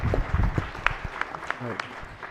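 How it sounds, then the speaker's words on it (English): Brief applause in the Senate chamber during a floor session, scattered claps of moderate loudness mixed with room noise and a voice. "Please give them a round of applause"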